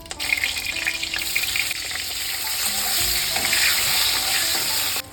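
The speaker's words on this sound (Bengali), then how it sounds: "হালকা করে বেগুনগুলো ভেজে নেব" Brinjal slices sizzle and fry steadily in hot oil in a pan, a dense and constant crackle made while cooking Bengali shukto. No voices can be heard.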